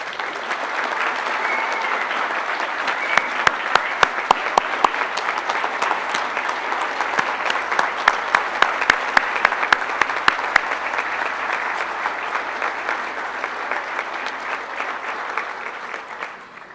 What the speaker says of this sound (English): Let's give our 2017 Hall of Fame class one more round of applause